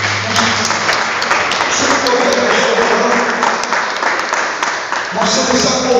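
A church congregation applauding, dense steady clapping throughout with voices mixed in beneath.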